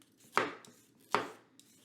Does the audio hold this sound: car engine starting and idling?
no